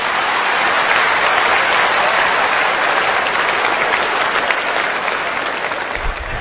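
A large audience at a sketch comedy performance breaks into loud, sustained applause, a thick wash of clapping that holds steady from start to finish.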